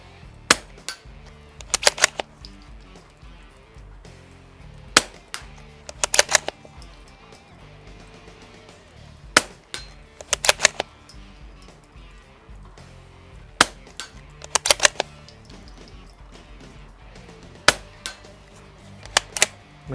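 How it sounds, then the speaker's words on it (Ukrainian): Suppressed shots from a Tactical Solutions carbine fitted with an Attack Wave sound moderator, fired at a 50-metre range: sharp, fairly loud cracks, some single and some in quick doubles, spaced a few seconds apart over a steady background with no talking. "Карабін Tactical Solutions, дистанція 50 метрів, саунд-модератор Attack Wave."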